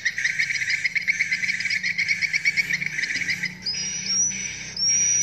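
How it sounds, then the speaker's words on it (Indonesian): Rapid high chirping calls of swiftlets, recorded from a swiftlet call sound system, repeating in fast trills with a few longer rising whistles toward the end, fairly loud and close with no talking. "Itu suara, kalau tidak salah, punya walet mas."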